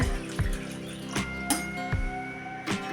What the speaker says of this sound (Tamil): கூடவே ஒரு கப்பு தண்ணியும் சேர்த்து